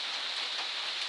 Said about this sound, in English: it was starting to rain harder